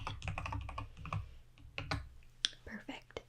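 Soft, quick keystrokes on a Bluetooth computer keyboard tap out an uneven, close and quiet run of clicks in a hushed room, with a faint voice murmuring briefly.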